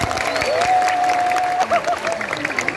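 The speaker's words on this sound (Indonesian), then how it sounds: "tepuk tangan untuk Pemuda Pancasila" Crowd applause and cheering at an Islamic pengajian gathering in Pemalang, sustained under a long whistle and some voices.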